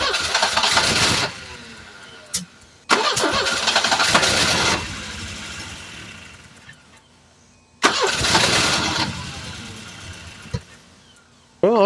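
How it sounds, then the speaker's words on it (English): A Volvo 240 DL engine, with its number 4 spark plug just reconnected, cranks loudly in three long starter bursts separated by pauses and clicks, catching only briefly before dying. "let's try cranking it now."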